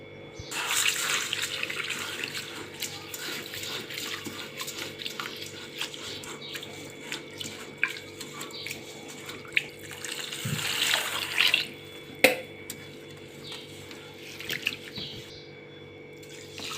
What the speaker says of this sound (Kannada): ಈಗ ಇದನ್ನು ಒಂದು 2 ಸರಿ ವಾಶ್ ಮಾಡೋಣ.